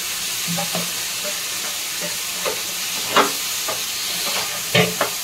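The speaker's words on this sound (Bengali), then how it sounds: "মশলাটা ভাজা হয়ে গেছে, দেখুন মশলা দিয়ে তেল ছেড়ে দিয়েছে।" Spice paste frying in oil for a tangra fish curry with potato and eggplant, a steady close sizzle with stirring scrapes and a few sharper spatter pops across the clip.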